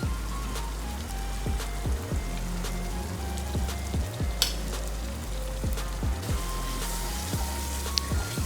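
Ground spice paste with palm sugar and fish sauce sizzles steadily in hot oil for tom yum, a dense close frying crackle with regular stirring scrapes throughout and a few sharp clicks.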